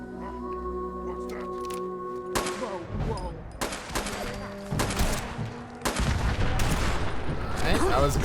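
Gunfire in Fallout 4, a run of sharp shots and bursts over a steady game backdrop, with a player talking over it.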